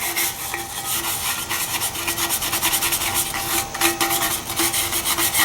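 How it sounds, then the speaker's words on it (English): A wire brush scrubbing rust off a heavy cast iron yard limit sign, fast rhythmic rasping strokes, close and loud, with no voices. "we have our wire brush, and we're just going to scrub a bit"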